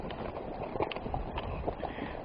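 Horses' hooves clip-clop steadily as the animals walk down a mountain trail in eastern Idaho elk country, a continuous close rhythm of hoof falls over outdoor ambience with no talking.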